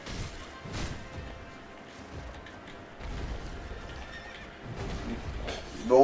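A horse in the video game Sekiro neighs and whinnies amid clip-clopping hooves and heavy impact crashes from combat, with a loud burst near the end.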